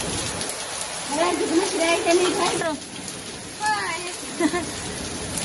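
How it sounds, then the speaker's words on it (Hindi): Steady rain patters throughout, a broad hiss of drops, while people talk nearby over it. "बारिश हो रही है"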